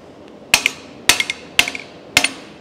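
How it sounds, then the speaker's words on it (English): A makeshift folding machine bends metal in four sharp, loud clanks at a steady interval, each followed by brief metallic rattles and ringing. The sound is close and isolated. "This is my makeshift folding machine."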